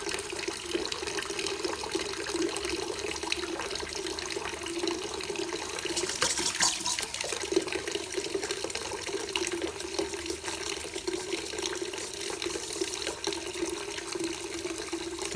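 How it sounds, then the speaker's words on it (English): Water and then syrup pour steadily from a Britvic bar valve dispense head during an equipment restart, a continuous close hissing liquid stream with no talk over it. "we're looking for the stream to change from a clear flow to a dark flow as the new syrup comes through"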